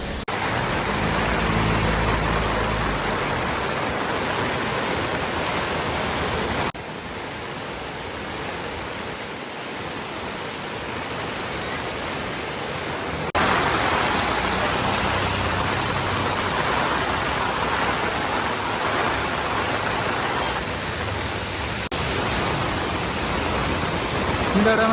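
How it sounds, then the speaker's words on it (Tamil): Heavy rain pours steadily during flooding in Jaffna, a dense continuous hiss and splash across the whole stretch, loud and close, with slight shifts in level but no pauses and no talking. "இந்த இடமெல்லாம் பார்த்தீங்கன்னா சட்டியாக மழை பெஞ்சு கொண்டிருக்கு."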